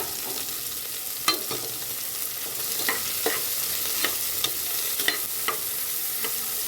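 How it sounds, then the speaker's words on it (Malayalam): Chopped onion sautéing in a pan for tomato rice, a continuous close sizzle broken by regular scraping stirs of a spatula, with no talking. "ഒരു സവാള അരിഞ്ഞത് അങ്ങോട്ട് ഇട്ട് കൊടുക്കുന്നു. എന്നിട്ട് നല്ല പോലെ അങ്ങോട്ട് വഴറ്റണം."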